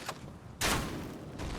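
Sudden loud blast of explosions in a video game duel, a burst that erupts after a quieter stretch and stays loud, with a second swell near the end; no talking.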